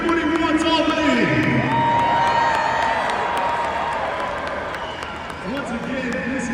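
A Monster Jam arena crowd in Albany cheers and roars loudly in a sustained wave, with an announcer's amplified voice talking over the noise and whoops rising through it.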